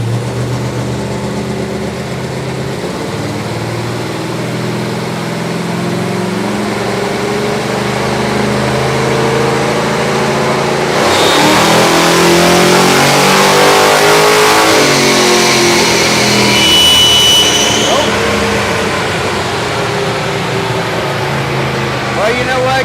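A car engine revs hard on a chassis dyno during a pull, its loud droning roar building and rising sharply partway through before holding at high revs, close and dominant.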